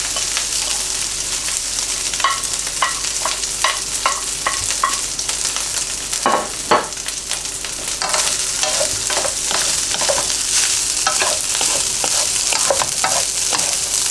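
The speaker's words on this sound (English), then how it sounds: "That's our garlic cooked, and we're putting in our rice." Rice is stir-fried in a hot pan with already cooked garlic, giving a steady sizzle broken by repeated scraping and tossing strokes of a utensil, close and fairly loud, with no talking.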